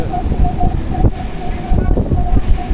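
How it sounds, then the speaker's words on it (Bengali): A local train on the Sealdah to Budge Budge line rumbles steadily as it slows on the approach to Budge Budge station, with a faint recurring squeal over the close, continuous rolling noise. "ট্রেনটা একটু স্লো হয়ে গেছে"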